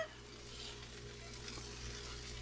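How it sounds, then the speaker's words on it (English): Diced potatoes sizzle steadily in a hot frying pan while a frittata is being prepared, a continuous, even hiss heard up close with no talking. "you want to hear that sizzle right away when you're cooking"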